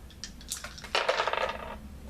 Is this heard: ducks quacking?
no